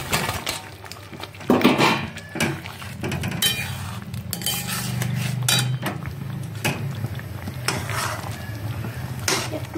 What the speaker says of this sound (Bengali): এবারে দিয়ে দিচ্ছি পুর ভরা পটল